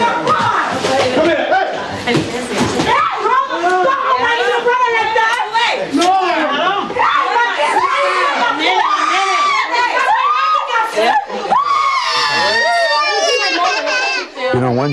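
A crowd of people screams and yells during a street police encounter, with many loud overlapping voices, shouting and a wailing child in a dense, constant commotion.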